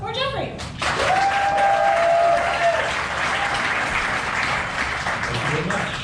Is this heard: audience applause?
yes